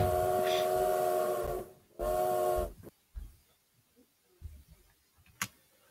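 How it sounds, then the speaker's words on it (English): A freight train sounds its whistle in two long, loud, steady blasts, then fades to quieter scattered knocks and rumbles. "Getting run over by a freight train."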